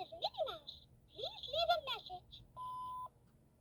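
A Pokemon toy phone gives an electronic melody of chirps and bleeps as its buttons are pressed, ending in a steady single-tone beep, close and clear with a little background noise.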